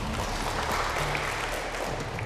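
Audience applause at a school quiz competition, a short burst of steady clapping at moderate distance with no one speaking.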